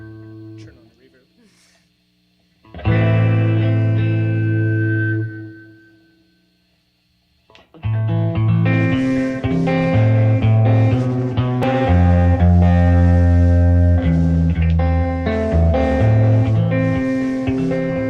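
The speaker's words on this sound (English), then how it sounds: "Turn on the reverb." Live band with guitar and vocals playing a slow love song with reverb switched on; after a short opening strum and a pause, the full band kicks in loud and sustained, the singing washed in echo.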